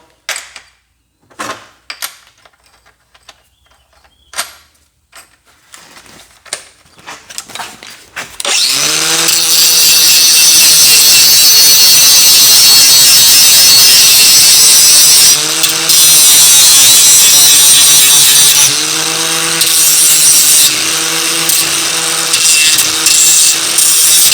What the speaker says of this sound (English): Let's go ahead and clean that up. The grinding wheel.